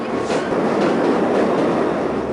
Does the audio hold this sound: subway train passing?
yes